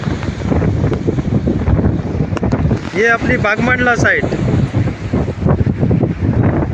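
Strong evening wind gusts across a river bridge under construction between Bankot and Bagmandla, buffeting the microphone in a steady rough rumble beneath someone talking close by.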